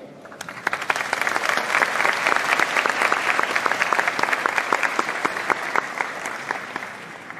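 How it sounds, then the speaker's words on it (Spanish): An audience at a performance event breaks into strong applause, a close, loud crowd of clapping with crisp individual claps over the dense mass, building quickly and holding steady for several seconds. "Un fuerte aplauso."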